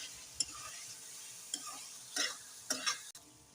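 Crushed chilli flakes fry in a pan with a faint, steady sizzle, broken by a few sharp clinks and scrapes of a spoon against the metal.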